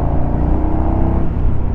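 A KTM Super Duke 1290R motorcycle engine drones steadily at low revs under load, with loud, continuous low rumble and wind noise, as heard while riding on asphalt in third gear.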